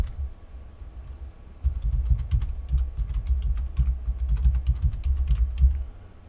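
A domain name is entered on a computer keyboard as a run of close, brisk key taps in an uneven rhythm. They come in quick bursts over a low room hum, with no voice.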